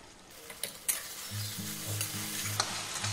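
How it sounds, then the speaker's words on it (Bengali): Tomatoes fry with salt in a pan, giving a moderate sizzle with sharp stirring clicks and taps near the start, under a low steady hum. "আর একটু এটা ভেজে নেব যতক্ষণ না টমেটোটা ঘেঁটে যাচ্ছে।"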